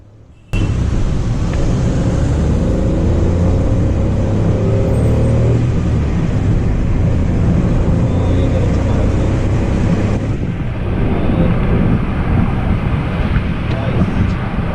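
Steady low road rumble and whooshing airflow inside a moving 2017 Mahindra KUV100 K8, constant and fairly loud, with a brief shift in tone partway through.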